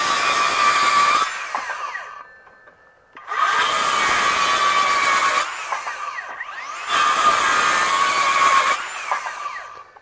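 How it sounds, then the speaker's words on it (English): A RIDGID R8656 18V sub-compact brushless 6-1/2 inch circular saw cuts through wood in three loud, sustained passes, each followed by a short spin-down and a pause. "So I can push this pretty hard and get it to bog, but it still cuts straight through, no problem whatsoever."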